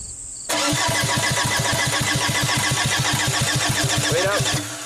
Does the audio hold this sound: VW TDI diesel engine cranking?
yes